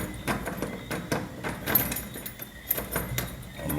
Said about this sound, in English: So now I must sit here open the door.